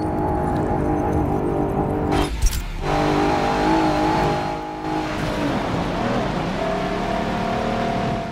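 A car driving in the racing game Forza Motorsport 7: a continuous engine drone with shifting pitch, dropping out briefly twice with a short knock, then returning as a steady hum and a rising rev near the end.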